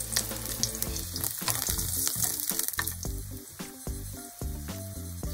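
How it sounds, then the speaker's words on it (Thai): Garlic frying in oil in a pan for a Japanese beef tataki dish, a steady dense sizzle with crackling pops running continuously at close range, no talking over it. "ตั้งกระทะนะคะใส่น้ำมันจะเป็นน้ำมันมะกอกก็ได้หรือจะเป็นน้ำมันธรรมดาก็ได้นะคะจากนั้นใส่กระเทียมค่ะ"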